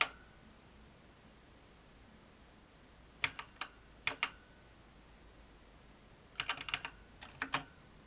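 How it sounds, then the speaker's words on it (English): Keys clack on an Acorn Electron 8-bit computer keyboard in short bursts: a few isolated presses, a pause, then a quick cluster of taps, crisp and close against a quiet room. "Keyboard."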